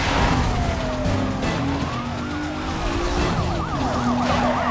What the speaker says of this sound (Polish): Trzy radiowozy super.